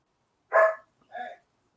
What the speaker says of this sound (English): my dog's going crazy because she misses her friends